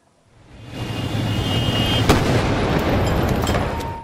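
A dense, continuous roar of street noise during violent 2017 anti-government protests in Venezuela, with a sharp bang near the middle, like gunfire or a bomb blast amid ongoing clashes.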